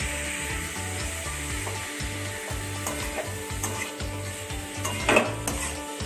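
Drained cabbage tossed into hot oil in a pan, stirred with a spatula scraping and knocking against the metal under a steady sizzle, with regular rhythmic strokes and one louder clatter near the end.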